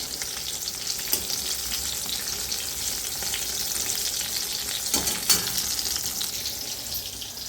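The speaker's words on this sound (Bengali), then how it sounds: "বেগুন ভাজা বসিয়ে দিলাম।" Eggplant slices frying in a pan give a steady close sizzle with soft crackles and a couple of stirring scrapes near the end, no voices.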